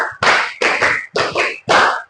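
A class of students claps in unison, bursts of five quick hand claps coming in close rhythmic groups, loud and near, with no talk between them.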